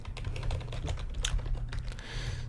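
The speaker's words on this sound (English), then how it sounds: "Typing noises begin now" Steady, close typing on a computer keyboard while writing Java code, a dense run of quick clicky keystrokes with a few louder taps, continuous and uninterrupted with no voices.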